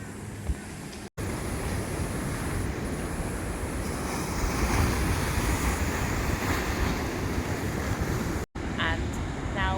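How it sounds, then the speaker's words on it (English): Ocean surf rolls in where river outlets meet the sea near Byron Bay, a steady broad roar of waves mixed with buffeting wind noise on the microphone. "the ocean coming in, it creates very strange water flows and tides"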